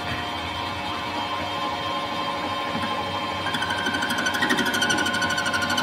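A metal lathe faces the end of a part for a custom Triton featherbed-style motorcycle build: a steady machining hum that grows a rising, shrill squeal of the cutting tool over the second half, close and continuous.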